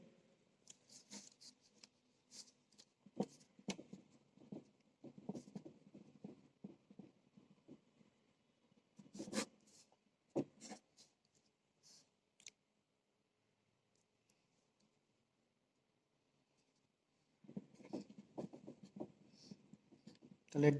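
A pen or chalk writing during a power engineering lecture, giving scratchy ticking strokes in bursts with a long quiet pause in the middle and faint talk here and there.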